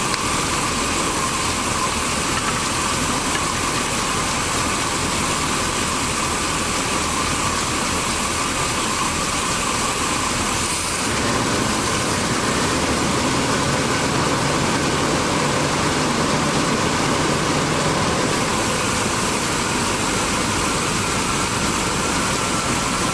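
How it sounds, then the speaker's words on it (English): Engine of a 1979 Chevy G20 van running after carburetor work, a steady, loud, broadband idle with a rough loping undertone and a slight shift partway through, heard close with no talking. "Carburetor is trying to load up a little bit."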